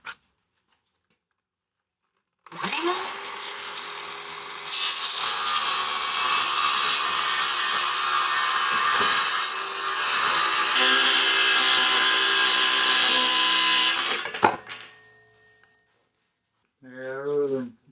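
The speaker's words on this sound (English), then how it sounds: "Nothing a little flap disc won't take care of." Flap disc grinding steel on a DIY SUV wheelchair lift build, a loud sustained abrasive whine running about twelve seconds with slight dips in pitch, ending abruptly, followed by a brief voice.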